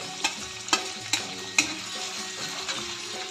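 Chili and garlic paste tipped into hot oil already crackling with cumin for a dill greens stir-fry, giving a steady close sizzle with a few sharp stirring clinks and scrapes spaced through it.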